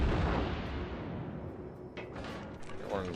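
A battleship fires a gun salvo in the World of Warships video game, a heavy booming blast that rolls into a long, dense rumble and fades slowly over a few seconds.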